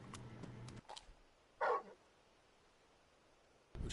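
Torgal, the large dog companion in Final Fantasy XVI, gives a single short bark up close in a quiet game scene, framed by brief faint sounds at the start and end.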